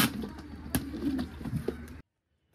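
A pet pigeon coos softly near a cage for about two seconds, with faint rustling around it, then silence.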